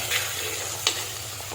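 Tomatoes stirred in a frying pan while cooking a special fish curry with mango, giving a steady low sizzle with a couple of brief scraping stir strokes, close and moderately loud with no talking.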